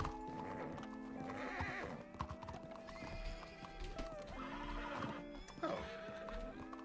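In Red Dead Redemption 2, a horse neighs repeatedly over a steady clip-clop of hooves, close and fairly loud, with a game music bed underneath.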